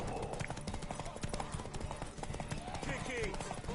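In The Witcher 3, a horse's hooves clip-clop in a quick, light rhythm under loud, shouting voices that dominate throughout.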